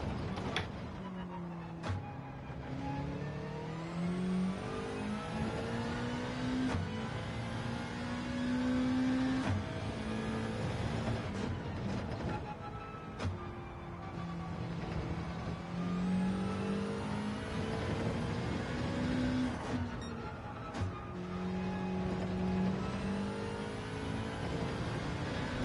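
A race car engine in Gran Turismo 7 revs up through the gears again and again, rising whines climbing and dropping in repeated cycles, loud and continuous with occasional sharp clicks and no talking.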